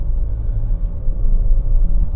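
A car travels a rough, difficult road toward the Land of Witches, giving a loud, steady low rumble with bumpy fluctuations and some wind noise, heard from inside the vehicle.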